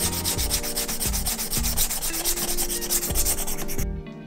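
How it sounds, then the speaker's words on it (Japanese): Sandpaper rubs rhythmically across the leather of a Nike Air Jordan 3 sneaker, steady scratchy back-and-forth strokes close up and loud, with no talking, stopping abruptly near the end. "ある程度ヤスリを使って削っといた方がいいなっていう部分は、ヤスリがけ終わりました。"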